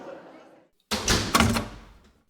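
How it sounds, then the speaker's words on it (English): Heavy double doors swing shut with a loud thud and a rumbling echo in a dramatized story reading, following a stretch of softer narration. "He noticed with terror that the double doors had already closed behind Mr. Stringer."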